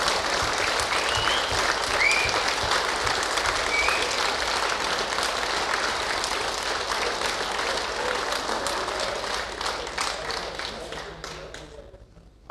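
A crowd gives sustained, dense applause at the NSL Nations Cup 2025 finals ceremony, with steady clapping from many hands that slowly thins out and fades near the end.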